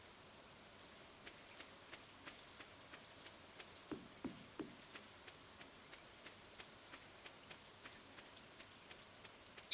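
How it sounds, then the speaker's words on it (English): Steady rain in the video game Stardew Valley patters down with a soft continuous hiss and evenly spaced light drips, fairly quiet, with no voices. "It's raining again."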